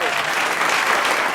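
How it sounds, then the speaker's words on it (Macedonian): An audience claps in a brief, dense burst of applause that stays loud and even throughout. "Аплауз!"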